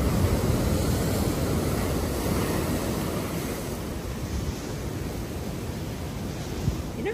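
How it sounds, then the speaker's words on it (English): Ocean surf at Condado Vanderbilt in Puerto Rico, heard from a hotel room as a continuous soft roar of breaking waves, steady and somewhat distant with no voices. "That beautiful sound of ocean waves is always present and so relaxing."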